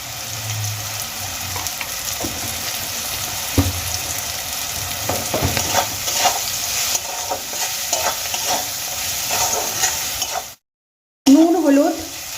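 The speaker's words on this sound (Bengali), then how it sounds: "পেঁয়াজ আর মটরশুঁটিগুলো আমি ভালো করে ভেজে নিয়েছি" Onions and peas frying in a pan with turmeric and salt for Bengali aloo kachuri, a steady sizzle with stirring scrapes throughout, a brief dropout near the end, then a louder burst of sizzle.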